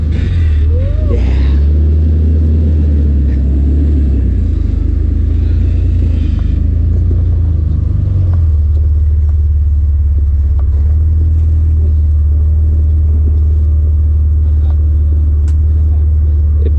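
A Jeep TJ engine rumbles steadily while driving off-road in Moab, loud and close with a deep continuous drone, and people talk over it.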